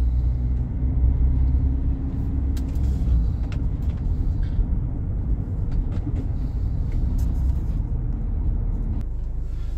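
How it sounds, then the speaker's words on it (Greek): Buses rumble and idle at a bus station on Samos, a steady low engine drone with scattered clanks and hisses from vehicles coming and going, no talking. "Λεωφορεία πάνε και έρχονται."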